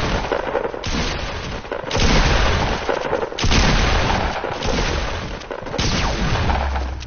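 Rapid bursts of gunfire in Fortnite, dense repeated shots and booms filling the whole stretch, loud and close with brief lulls between volleys.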